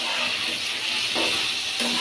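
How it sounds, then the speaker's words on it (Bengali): Liver sautés slowly over low heat, a soft continuous hiss of cooking in the pan with faint stirring knocks, close and fairly even, without talk. "কলিজাটা কষাই, ভালো করে কষাতে হবে অল্প জালে"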